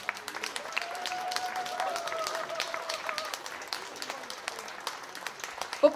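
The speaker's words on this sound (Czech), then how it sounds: "Ještě jednou jim všem děkujeme a zatleskejte jim." Moderate audience applause for folk music performers, a soft, even patter of many hands clapping at a distance, with a voice speaking over it.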